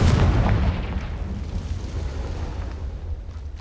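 A fire blast spell in Hogwarts Legacy goes off as a loud, booming explosion right at the start, then a low rumbling tail fades over a few seconds, with no talk.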